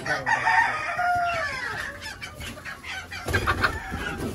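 Chickens at a native Bangladeshi chicken farm cluck and a rooster crows nearby, with overlapping bird calls that swell again toward the end amid background farm noise.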